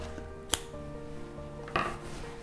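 Scissors snip crochet yarn flush against the work, two short, crisp cuts about a second apart over a quiet room.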